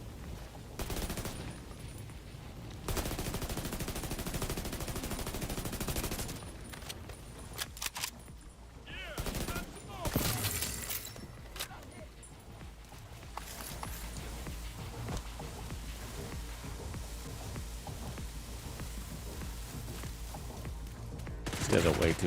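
Enemy gunners in The Division 2 open up in repeated bursts of gunfire and rattling volleys, loud and sustained across a busy firefight with game effects throughout.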